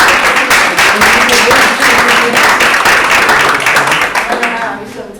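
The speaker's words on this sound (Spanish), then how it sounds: "pues le damos un aplauso, ¿no?" Audience applause for a speaker at a volunteering talk, a dense steady wash of clapping that holds for several seconds, with voices mixing in as it fades toward the end.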